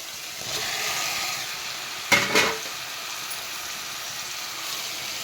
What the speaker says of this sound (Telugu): ఇది ఉడికిన తర్వాత ఇలా మనం శుభ్రం చేసుకున్నటువంటి పుట్టగొడుగులని అందులో వేసేద్దాం